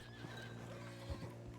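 A horse in a video game gives low snorts and soft hoof sounds over a steady background hum, with no speech.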